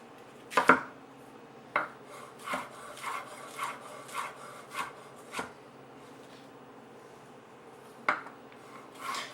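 Knife chopping vegetables on a cutting board while preparing ingredients for chop suey, a series of sharp, close knocks, irregular but steady, with a gap before a few final cuts, no talking.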